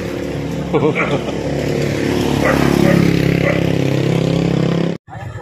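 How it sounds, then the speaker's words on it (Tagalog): A motorized tricycle rumbles up close with a steady engine drone that swells and holds, while people talk over it, before cutting off abruptly. "Ayan na po ang tricycle"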